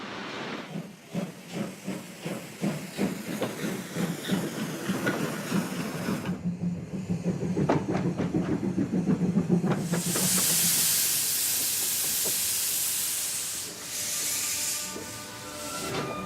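A Romanian CFR class 460 steam locomotive with dual coal and oil firing pulls out of a station, its rhythmic chuffing quickening before loud, steady steam hissing takes over and fades slightly near the end.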